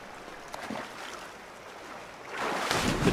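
A character wades through cold water in Assassin's Creed III Remastered. Soft, continuous sloshing and swishing swells louder toward the end, with no voices.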